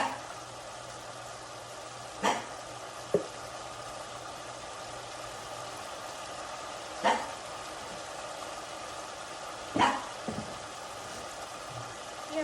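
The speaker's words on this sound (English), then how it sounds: "He has to bark every time I get on here to videotape." A small house dog barks indoors in a kitchen, a few separate short barks spaced several seconds apart over a low hum of background noise.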